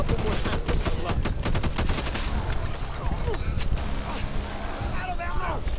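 Gunfire in the co-op zombie shooter Back 4 Blood, a rapid flurry of sharp shots in quick bursts, loud and close, mixed with battle noise and people talking over it.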